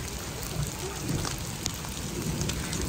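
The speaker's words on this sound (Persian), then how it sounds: "امروز بارندگی شدید در این کانتون شده" Heavy rain beside Brunnensee lake during a downpour, a steady dense hiss of falling water with scattered nearer drop impacts, constant throughout and no talking.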